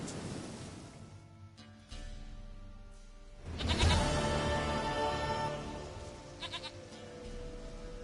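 Goat bleats in The Witcher game, a few wavering calls over a wash of ambient game sound resembling surf, moderately loud and alone without speech.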